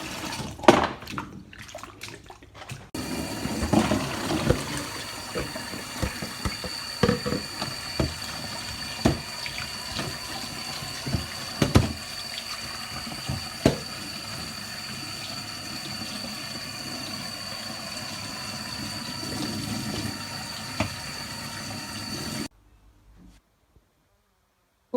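Cassava being washed under a running kitchen tap, a steady stream of water splashing into the sink with irregular knocks and rubbing as the roots are handled, close and continuous before stopping abruptly near the end.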